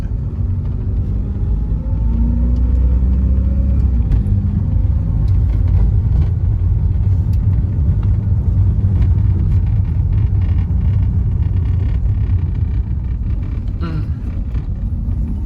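A Honda City sedan with an automatic gearbox drives along and accelerates, giving a steady loud low engine and road rumble from inside the cabin with some wind noise.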